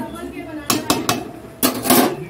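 A pot of skin-on chicken curry with thin gravy is lifted off the stove. A few sharp metallic clanks are followed by a longer scraping clatter of pot and utensil, close and fairly loud.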